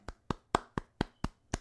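Seven sharp hand claps from a character in GTA roleplay, in an even, quick rhythm, each crisp and close, with near silence between them.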